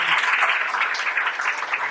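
A church congregation at a Sunday service claps to welcome first-time visitors, a brief burst of bright, busy applause from a modest crowd, fairly close and steady.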